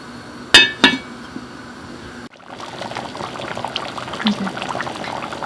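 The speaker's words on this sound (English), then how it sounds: "this is boiling, so we are going to reduce the heat and let this simmer about 45 minutes" Hungarian goulash boiling in a lidded pot, with two sharp clinks of the lid up front, then a soft, steady bubbling with faint pops.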